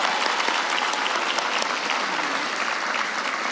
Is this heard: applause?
yes